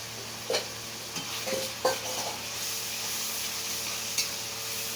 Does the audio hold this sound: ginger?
yes